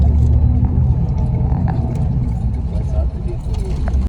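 A luxury sleeper bus accelerates on a highway between Delhi and Varanasi at night, heard from inside as a loud, steady low engine and road rumble that continues without a break under a speaking voice.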